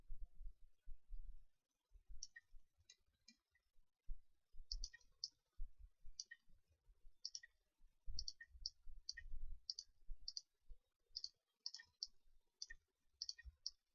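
Computer mouse clicking during UV texture mapping work, a long run of sharp, close single and double clicks in uneven bursts, alone with no talk.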